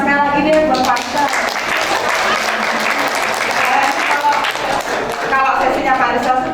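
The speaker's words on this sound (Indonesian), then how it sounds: "Kita berikan tepuk tangan sekali lagi deh buat Pak Rizal." Sustained audience applause at an Indonesian school teachers' workshop held at a university in Kudus, steady dense clapping for the whole stretch with a host's voice talking over it.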